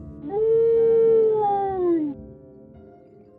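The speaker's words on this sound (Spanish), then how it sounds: "suele escuchárselo aullar desde lejos unas 3 veces" A single long, mournful dog howl, steady and drawn out for about two seconds before trailing off into quiet.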